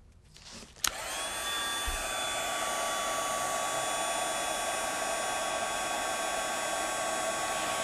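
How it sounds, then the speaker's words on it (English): A Marvy heat tool switches on with a click and blows a steady, loud whine and rushing air close by while melting embossing powder, continuing unbroken to the end. "grab my heat tool. I'm using the Marvy heat tool, and emboss this"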